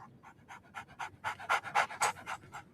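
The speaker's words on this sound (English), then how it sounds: "So, Barnes has a dog now." A dog in the video game Sherlock Holmes: The Awakened pants in quick, rhythmic breathy puffs, about a dozen in under three seconds, close and fairly soft, building slightly in strength, with no voices.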